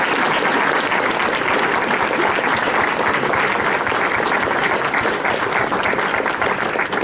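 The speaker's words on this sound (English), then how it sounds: "let's give these people a round of applause." Loud, dense applause from an audience at a charity event for orphans, sustained and even throughout with no pauses or talking.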